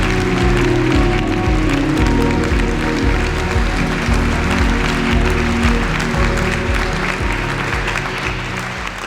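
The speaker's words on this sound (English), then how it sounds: "Round of applause for Sue." Loud, sustained applause from a large audience at a community celebration event, dense clapping throughout that tapers slightly toward the end.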